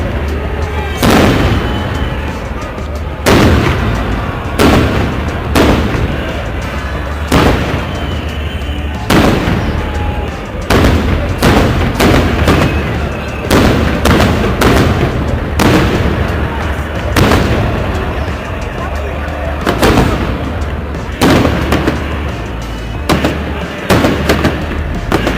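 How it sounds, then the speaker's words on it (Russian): Fireworks for a Victory Day salute on May 9 fire in a loud, repeated series of booming bursts spaced a second or two apart, with crackling between them and voices faintly underneath. "Сама смотри на салют."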